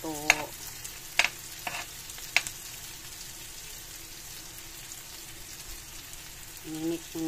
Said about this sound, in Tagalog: Mimix na natin ang kamatis